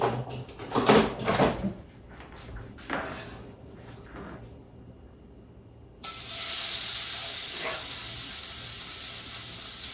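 Beef tongue meat sizzling in a hot skillet: a few loud stirring crackles at first, then a brief lull before a strong, steady, bright hiss of frying settles in and holds.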